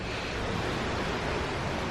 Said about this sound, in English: That's the top of that waterfall.